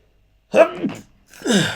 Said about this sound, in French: Je vais éternuer apparemment